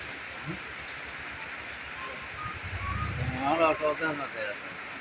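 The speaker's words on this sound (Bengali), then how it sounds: "দেখছেন নি কিভাবে বৃষ্টি হইতেছে?" Heavy monsoon rain pours steadily over flooded streets around a market in Noakhali, with a continuous wash of falling water throughout and a voice speaking over it in the latter half.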